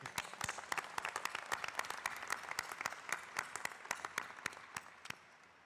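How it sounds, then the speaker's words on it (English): Graduation audience at an RMIT University ceremony applauding for a student speaker, with many sharp claps close by that build into dense, steady applause and fade slightly toward the end. "Another round of applause for Kaylee"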